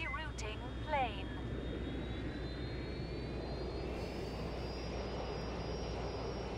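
Jet aircraft noise from a rerouted plane in the game Watch Dogs Legion, a steady distant roar holding throughout with a faint rising whine, alongside other brief game sounds.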